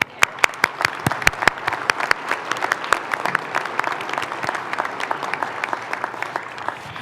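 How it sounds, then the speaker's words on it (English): Audience applause for award winners at a city's State of the City address, a steady patter of many hands clapping, sharp individual claps standing out early then settling into an even, moderately loud round. "Let's give our winners one more round of applause."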